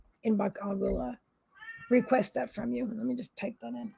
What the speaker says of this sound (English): that's my cat Chevy saying hello